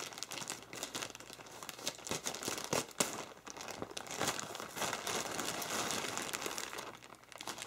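A crinkly plastic package bag for riding breeches is handled and cut open with scissors, giving close, continuous rustling and crackling with a few sharper snaps, and no talking.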